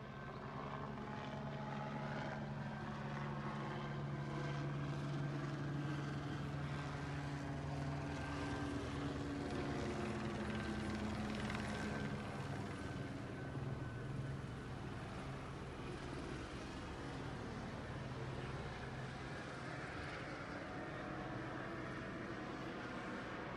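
A helicopter drones steadily overhead above a hostage scene in Tarzana, California, its rotor and engine rumble holding for a long stretch, slowly shifting in pitch as it passes.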